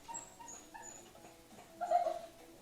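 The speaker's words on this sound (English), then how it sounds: "You see my dog's crying." A pet female dog cries indoors, giving a series of soft, thin whimpers and a louder drawn-out whine near the end, heard faintly and alone with no voices.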